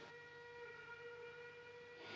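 A steam train pulling into a station in a 1950 Western film scene: a steady, loud rumble with a sustained steam-whistle tone over it, and no talk.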